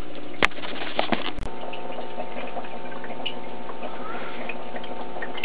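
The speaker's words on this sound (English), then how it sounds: "I have to make sure that the siphon hose is well at the bottom" Home-brewed beer runs through a siphon hose from a jug into bottles, a continuous close trickle and gurgle of liquid with a couple of sharp clicks near the start.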